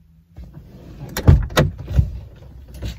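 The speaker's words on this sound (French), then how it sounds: "la porte passager ne s'ouvre pas de l'extérieur visiblement" A car's passenger door is worked from outside, giving a few sharp mechanical clunks and latch thuds close by, with a low engine-like rumble underneath and no speech.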